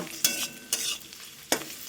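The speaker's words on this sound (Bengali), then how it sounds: "এই যে পেঁয়াজ ভাজা করছি" Onions frying in a pan for a home-cooked chickpea ghugni, a steady close sizzle broken by three sharp stirring scrapes, with no voices.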